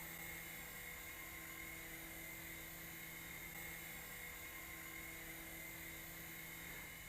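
A V398 mini RC helicopter with a missile launcher, a little nose heavy, lifts off and hovers about 1.5 meters up, its steady whining rotor and motor drone holding continuously and fairly faint throughout, with no speech.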